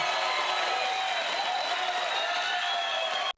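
A studio audience applauds and cheers in a dense, loud, continuous wall of clapping that holds steady before cutting off abruptly.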